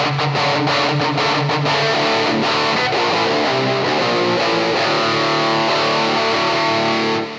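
A loud overdriven electric guitar plays chords and notes through an EVH 5150 amp's clean channel with overdrive, thick and distorted, sustained continuously with a fading ring at the end.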